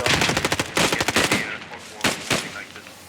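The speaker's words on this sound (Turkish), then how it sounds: "Orada biri sıkıyor." Gunfire in the World War II video game Post Scriptum: a rapid automatic burst of close, loud shots, then a pause and two heavier single shots.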